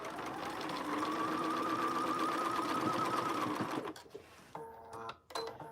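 A sewing machine stitches pants in a steady, fast, close-up run for several seconds, then stops, leaving quieter handling clicks.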